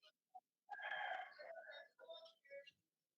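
A rooster crows at a distance, one drawn-out cock-a-doodle-doo followed by a shorter broken call, with a few brief sounds just before, heard on a live video call.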